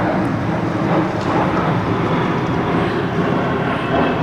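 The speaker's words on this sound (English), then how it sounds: "there's a plane going over" An airplane flies overhead, producing a steady, loud, broad engine roar that holds level throughout, with no talking.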